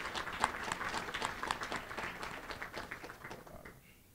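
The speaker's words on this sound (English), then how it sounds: "Let's clap for them." An audience at a gala applauds, a dense patter of clapping that stays fairly faint and tapers off toward the end.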